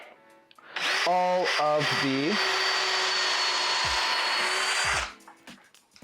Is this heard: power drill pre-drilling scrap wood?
yes